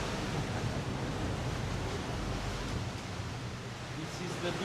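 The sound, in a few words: sea waves hitting cave rocks, Benagil Caves, Portugal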